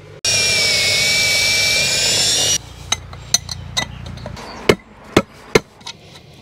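A power drill with a 10 mm bit whines steadily and loudly for about two seconds while boring a picket fence part, then stops, followed by a series of sharp knocks and clicks.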